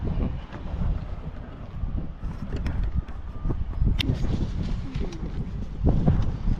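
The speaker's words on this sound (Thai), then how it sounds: "ลมเย็นมากเออแต่ลมดี ลมโชยมากครับ" Cool wind blows steadily outdoors at the Wat Ratchaburana temple ruins in Ayutthaya, Thailand, buffeting the microphone with a loud continuous rush and gusty swells.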